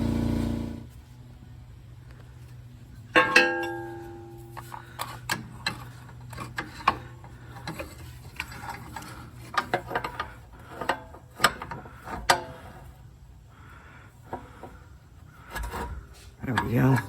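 Prying and ratcheting on the suspension of a Nissan 300ZX TT Z32 during a Tein Flex Z coilover install, with sharp metallic clanks and clicks scattered irregularly over a steady low hum, fairly close.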